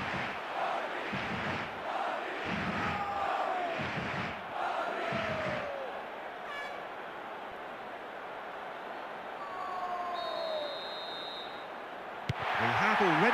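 Stadium crowd in the football video game eFootball 25, a broad murmuring roar with whistle-like calls rising and falling behind it, continuous and moderately distant, with a few louder swells.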